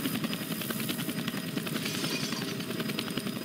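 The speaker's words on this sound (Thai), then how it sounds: "Hey, helicopter." Helicopter in the video game Left 4 Dead 2, a steady rotor chop with rapid rhythmic thumping over engine drone, loud and continuous.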